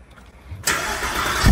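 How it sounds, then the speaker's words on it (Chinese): A Mercedes V8 hypercar engine cranks and fires, jumping from near silence into a loud, sustained roar that settles to a strong idle with a rising burst at the end. "我们先发动听一下，干这 V8 声浪"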